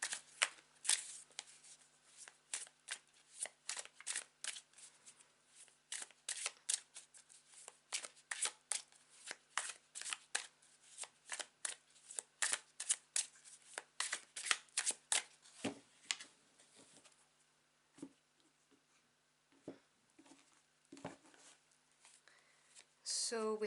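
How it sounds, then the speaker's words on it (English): An Italian tarot card deck is shuffled by hand in quick, crisp riffles and flicks, soft and close, repeating in irregular bursts with short pauses between them. "If you are interested in the deck I'm using, this is a stunning Italian deck."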